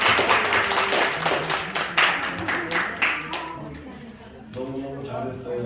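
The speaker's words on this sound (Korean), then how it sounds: "우리 박수 한번 치겠습니다." A church congregation claps together in a brief burst of rhythmic applause that fades out, with a voice speaking at the end.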